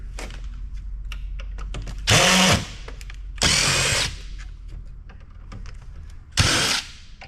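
A power drill backs screws out of a bill counter being taken apart for scrap: three short, loud whirring bursts, each about half a second long, separated by quieter pauses with small clicks and handling noises.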